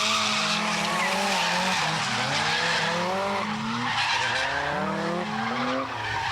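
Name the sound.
car drifting with skidding tires on mountain pass road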